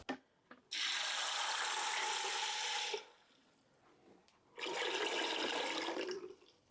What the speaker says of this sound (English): I'm going to cover them with water to about 3 or 4 inches.